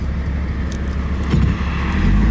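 Steady engine drone and road rumble from a 1953 Chrysler New Yorker Deluxe convertible with an early Hemi V8, heard from inside the moving car, even and unbroken.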